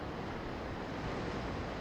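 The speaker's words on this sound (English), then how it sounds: "The waves still move, the wind still blows" Sea waves and wind on the tropical coast of El Nido form a steady, faint, broadband wash with no distinct breaks or other sounds.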